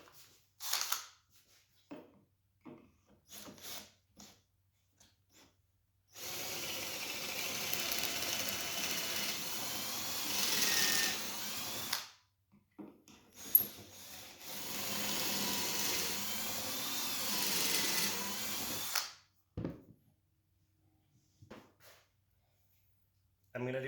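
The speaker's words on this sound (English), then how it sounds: "right now we're gonna drill some pocket holes for these" A drill bores pocket holes into pallet wood held in a pocket hole jig, with two long loud drilling runs separated by quiet gaps, knocks and brief handling noises.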